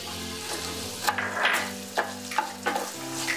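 Onions frying in a hot pan for vegetable poha, alongside peanuts already fried, give a steady close sizzle broken by several sharp scraping stirs of a spoon.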